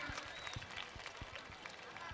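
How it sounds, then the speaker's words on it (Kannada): Applause from an audience at a school annual day event, a dense steady patter of many hands clapping at moderate distance, sustained evenly through the moment with no voices standing out. "ಒಂದು ಸಾರಿ ಜೋರಾಗಿ ಚಪ್ಪಾಳೆ ನೋಡ್ರಿ"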